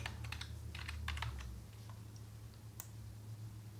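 Fast, light tapping on a computer keyboard, close and quiet, a quick run of keystrokes followed by a few sparser clicks, with no talk.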